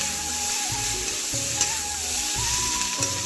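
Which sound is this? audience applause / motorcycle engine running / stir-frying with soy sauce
stir-frying with soy sauce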